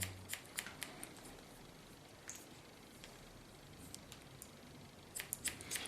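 Scissors snipping hair during a summer haircut by a stylist cutting into curls over the skull, quiet and close, with sporadic bursts of crisp clicks and a faint rustle between cuts.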